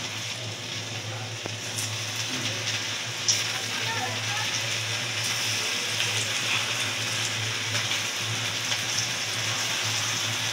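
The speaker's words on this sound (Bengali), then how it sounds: "অল্প অল্প করে আস্তে আস্তে করে এগুলো ভেজে নেব হালকা করে।" Elephant foot yam pieces fry slowly in hot oil, a steady hissing sizzle with fine crackles running unbroken throughout, close and moderately loud.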